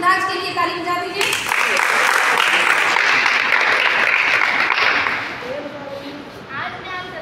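A school audience applauds a class VIII student speaker before her talk on Munshi Premchand, a sustained burst of many hands clapping for about four seconds that fades out, with a voice speaking before and after it.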